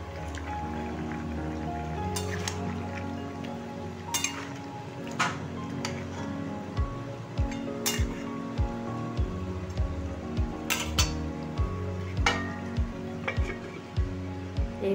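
Fried fish heads go one by one into a simmering curry, a low bubbling simmer with a series of soft plops and clinks spaced through the second half.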